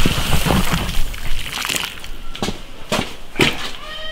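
A sheep's head is washed in water, with continuous sloshing and splashing as it is rinsed and turned, broken by sharper splashes and knocks at irregular intervals.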